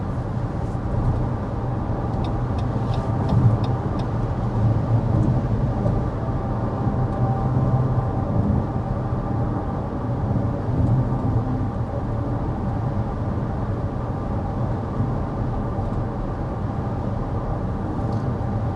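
A 2026 Lexus NX 350 cruises at 55 mph, its cabin filled with a steady low road and wind rumble that holds even and moderately quiet throughout, with no voices.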